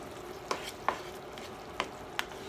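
Fresh corn cooking in a frying pan, a steady low sizzle with four sharp scrapes or stirs of a spoon against the pan spaced through the stretch, fairly close and with no talking.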